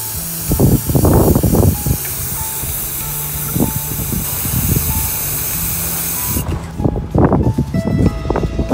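A spray paint can hisses steadily for several seconds while spray art is painted, then cuts off, with short bursts of noise and handling sounds around it.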